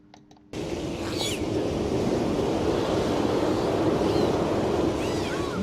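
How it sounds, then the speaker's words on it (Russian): A rough-sea sound effect: after a brief quiet start, a steady wash of crashing waves and surf sets in and holds at an even, full level, with faint high whistling calls above. "Волнение моря."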